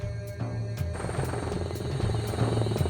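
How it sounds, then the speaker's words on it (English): A steady rhythmic chopping of helicopter rotor blades, loud and continuous, with a whining engine tone underneath. "The chop-chop sound of the rotor disappears."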